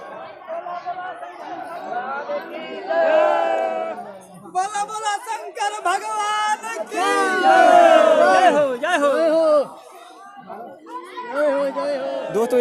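A large crowd of pilgrims walks to Gupta Dham for Mahashivratri, with loud, dense shouting, chanting and chatter from many voices close by that rises and falls throughout.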